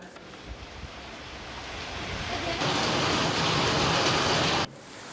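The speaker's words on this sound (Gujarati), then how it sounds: "મેઘરજના ગ્રામ્ય વિસ્તારોમાં ધોધમાર વરસાદ છે" Heavy rain pours down over village areas of Meghraj in Aravalli, Gujarat, a dense steady roar that swells louder partway through and then cuts off abruptly, with wind buffeting the microphone.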